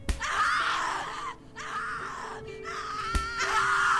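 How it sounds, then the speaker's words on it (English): Repeated anguished screams from a voice in The Cat Lady horror game come in three long, loud waves with short breaks, close and harsh, a sharp thud cutting in near the end. "Multiple screams"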